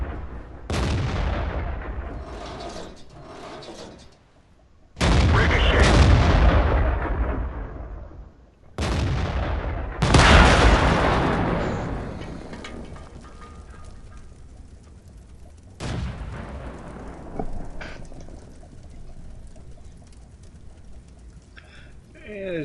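Tank cannon shots in World of Tanks during a Tier 7 German Tiger P heavy tank battle against a T-29: several loud, sharp blasts, each with a long decaying rumble, spaced a few seconds apart over game ambience.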